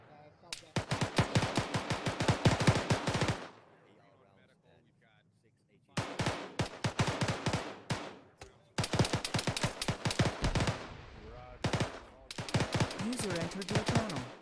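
Video game gunfire from the south arrives in rapid bursts of sharp, loud shots, three distinct volleys separated by brief quiet gaps, with overlapping reports and echoes that sound fairly close.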